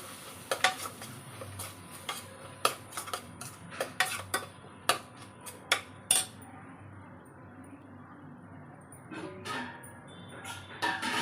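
Ground masala paste being sautéed in a pan with bottle gourd, heard as a series of sharp metallic spoon-against-pan clinks and scrapes over a soft background sizzle, the stirring busy at first and then easing off, with no talk.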